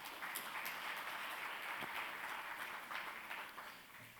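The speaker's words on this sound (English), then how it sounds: "So if I could have a round of applause for our speakers, please." Audience applause for speakers at a global supply chain resilience conference session, a steady, fairly faint wash of clapping from a crowd that holds for about four seconds and tapers slightly at the end.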